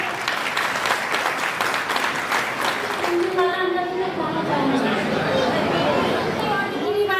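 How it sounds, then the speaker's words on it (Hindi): An audience at an Agrasen Jayanti community gathering in Biratnagar breaks into sustained, loud applause, with murmured chatter and a voice coming through over it as the clapping thins. "कृपया तालियों में कंजूसी ना करें।"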